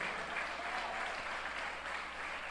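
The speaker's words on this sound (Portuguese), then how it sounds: "Quem pode aplaudir a palavra de Deus?" Church congregation clapping during a Bible sermon, a loud, continuous wash of many hands applauding together, close and sustained with no pause.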